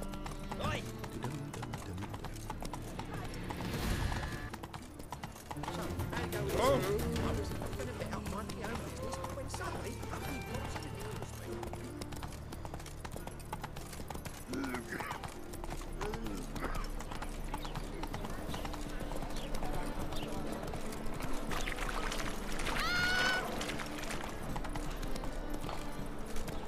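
Roach, the horse in The Witcher 3 video game, gallops with steady clip-clop hoofbeats running under game music and sounds, with a rider's voice calling out over the rhythm.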